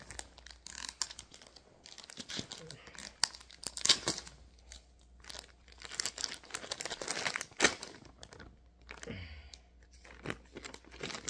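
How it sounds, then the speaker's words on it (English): A plastic package bag is cut open with a knife, with close, irregular crinkling and tearing of plastic in short bursts and soft rustling between them. "Let's cut it with the knife."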